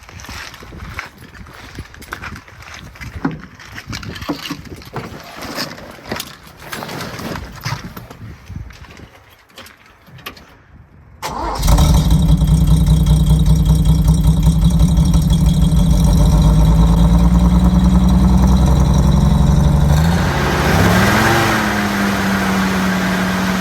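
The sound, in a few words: old engine cranked over, starting and idling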